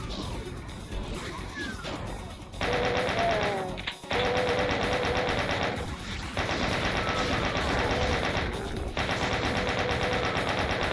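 Doom gameplay with rapid chaingun bursts and heavy shotgun blasts, dense and loud rattling fire in long stretches broken by brief pauses, along with in-game impact and monster sounds.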